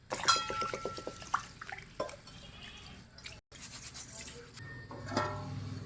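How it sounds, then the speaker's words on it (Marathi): Close sloshing and swishing of water with rice grains being rubbed and rinsed, occasional drips and a pour, no talking. "मी आता हे तांदूळ स्वच्छ धुवून घेते दोन तीन पाण्याने"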